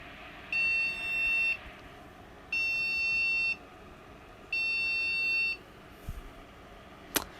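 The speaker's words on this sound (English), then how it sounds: "It's that fucking beeper." An HP desktop PC's beeper sounds three long, even electronic tones about a second apart, loud and close, followed by a few faint knocks and a sharp click.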